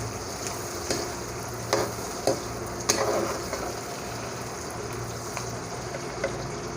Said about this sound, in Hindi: अब हमने 2 मीडियम साइज़ के जो प्याज लिए थे वो डाल देंगे। और इसको चम्मच से हिलाएंगे।